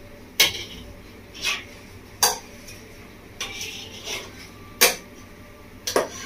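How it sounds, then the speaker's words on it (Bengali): A spatula scrapes and knocks against a pan and bowl as cooked, dry cashew filling for gulab jamun is transferred, giving about six sharp separate clinks over a quiet room hum. "আমি এবার তুলে নিচ্ছি বাটির মধ্যে।"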